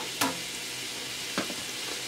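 Chicken searing on a hibachi surface, a steady hiss of sizzling with two sharp scrapes of a utensil against the hot metal.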